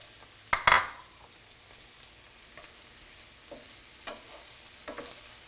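Stuffing for Italian-style stuffed peppers fries quietly in a pan. A sharp clatter of utensils comes near the start, followed by soft sizzling and a few sparse scrapes and taps of stirring.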